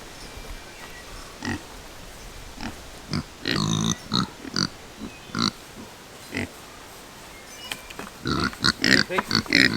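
Kunekune pigs grunt and oink in short, irregular bursts nearby, some louder squealing snorts clustering toward the end, with no one speaking.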